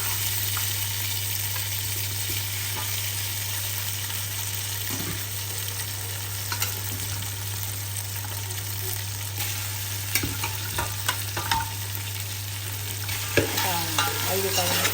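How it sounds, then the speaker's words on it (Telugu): Mutton fries in a pan for dum biryani with a steady sizzle, joined by intermittent scraping and clattering stirs that grow busier toward the end, over a constant low electrical hum. "నేనేం చేస్తానంటే మటన్ని కొంచెంసేపు ఫ్రై చేస్తానండి"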